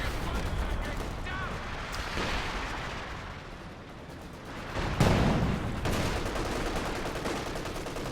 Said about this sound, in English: the howitzer barrage